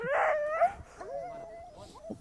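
Husky sled dogs howl and whine in a rising, wavering tone, followed by softer yips and whimpers, close by and fairly clear.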